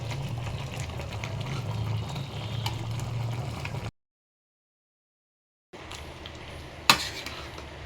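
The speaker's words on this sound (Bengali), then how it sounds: "ভালো করে নেড়ে দিচ্ছি।" Mango pickle stirred in a pan, a thick, low bubbling sizzle with soft scraping, cut by a silent gap of nearly two seconds before resuming with a sharp clink of utensil on metal, no voices.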